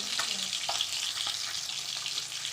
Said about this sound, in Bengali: দেখতে পাচ্ছেন মাছটা পুরো ভাজা হয়ে গেছে আমাদের